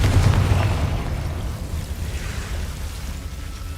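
Confringo fire spell bursting with a loud low boom in Hogwarts Legacy, the blast landing at the start and then rumbling and crackling away.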